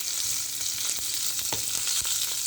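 Curry leaves and asafoetida crackle in hot oil, a steady dense sizzle with a few sharp pops and spoon scrapes standing out, and no voices over it.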